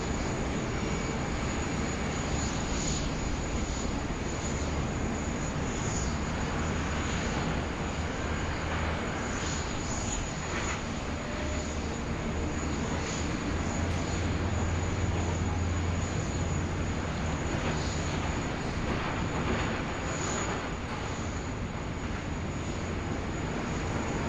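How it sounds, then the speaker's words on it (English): Steady, loud airport background roar of engines and machinery at Sydney Airport as a Jetstar airliner is towed in by a tug, a constant drone with a high whine running through it. "Jetstar just rolling in here under tow from Tug Green Charlie there."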